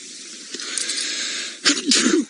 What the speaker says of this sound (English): my sneeze seemed to have set the wildebeest off again